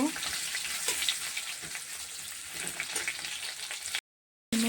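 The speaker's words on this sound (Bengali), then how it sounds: "কেটে রেখেছি তেলে দিয়ে দিলাম ভালো করে ভেজে নেব তেলে একটু লাল লাল করে ভেজে নেব" Pieces of jeol fish frying in hot oil, giving a steady, dense sizzle close by that fills the pan and stops abruptly near the end, with no one speaking over it.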